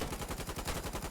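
Rapid machine gun bursts in a Start of War battle, a steady repeating rhythm of close, loud shots running throughout with no talk.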